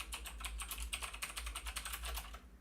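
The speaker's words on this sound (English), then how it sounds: "Sorry about the slow typing here." Slow typing clicks on a computer keyboard tap out in an uneven rhythm over a low steady hum, close and fairly quiet, with no voices.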